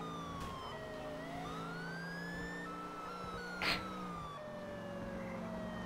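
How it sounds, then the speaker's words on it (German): A glitchy police siren from the video game GTA 4 wails steadily with warbling sweeps throughout, a continuous mid-loud electronic tone with a brief burst near the middle and no talking. "Ja, die Sirene hat jetzt eine Macke."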